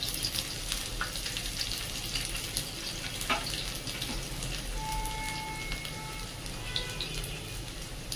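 Cumin seeds and crushed garlic cloves hiss and crackle in hot oil, a continuous close sizzle with scattered sharper spits and light clinks over the whole stretch, with no voices.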